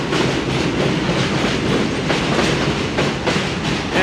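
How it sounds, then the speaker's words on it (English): An elevated train roars past close by in southern Brooklyn, New York City, steady and loud, with rhythmic clickety-clack of wheels over rail joints throughout. "if you're living right next to the train, this all becomes background"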